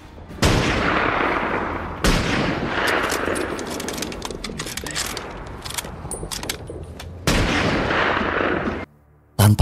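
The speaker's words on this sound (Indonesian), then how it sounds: "Jackson berusaha nembak tepat sasaran" Gunfire in a war film battle scene, a soldier firing from a tower: dense, loud bursts of shots and explosive cracks in three long volleys with brief breaks, ending in near silence and a final sharp hit.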